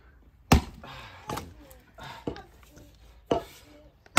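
A heavy wooden stump is struck repeatedly while being split for firewood, producing about five loud, sharp thudding blows spaced roughly a second apart, with quiet pauses between them.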